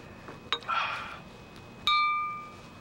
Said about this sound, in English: If we hit it, we hear a tone.